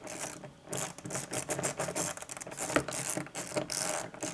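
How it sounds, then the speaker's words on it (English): Proxxon rotary ratchet tool being turned, giving a steady stream of rapid, fine mechanical clicks from the pawl, close and fairly quiet, with no voices. "It has the ratchet action is the same as when you're tightening it."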